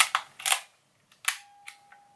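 A Belomo Elikon 4 Soviet film camera clicking its shutter: a few sharp, close clicks spaced apart in a quiet room, with a brief thin tone after one release and no talk.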